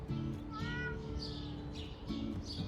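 A cat meows several times in quick succession, fairly close, with drawn-out tonal cries over a low background hum.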